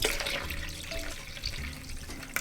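Water trickles and splashes steadily as a small amount is poured into homemade mangosteen juice, close by and continuous for a couple of seconds with no talking.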